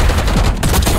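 A loud, close sniper rifle shot in the Black Ops 6 video game, one sharp blast with a brief rolling tail.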